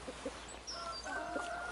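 A rooster fusses noisily around a hen, giving faint clucks and low calls against quiet background noise, captured at a modest distance.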